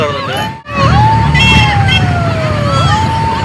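A loud siren wails nearby at a beach, its tone sweeping up and down, with a brief dropout early on and crowd babble underneath.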